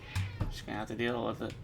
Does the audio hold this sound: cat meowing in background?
yes